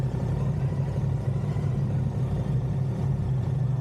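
A Moto Guzzi two-cylinder motorcycle engine runs steadily with a rough, throbbing low hum, close and continuous with no talk.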